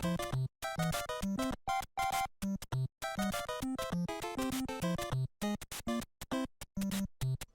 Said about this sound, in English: This is due to the clone CPU inverting 2 cycles and making the sound inaccurate.